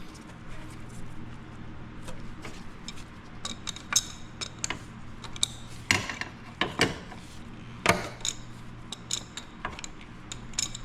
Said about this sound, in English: I don't have the right socket, so crescent wrench will work.